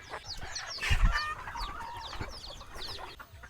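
A mother hen and other chickens cluck and chirp in quick overlapping calls, with a louder flurry of clucks near the middle and softer peeping continuing around it, no voices present.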